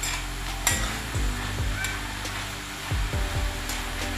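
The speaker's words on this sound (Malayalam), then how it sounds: "ഇനി നമുക്ക് ഈ തേങ്ങ ഒതുക്കിയതും കൂടെ അവിടെ ചേർത്ത് കൊടുക്കാം നന്നായിട്ട് ഇളക്കി കൊടുക്കണം" Grated coconut being stirred into a carrot and bean thoran in a pan on low flame, giving repeated scraping strokes over a soft, continuous sizzle.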